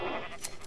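A sheep in the video game Minecraft lets out a single short, wavering bleat, clear and close, with no talk over it.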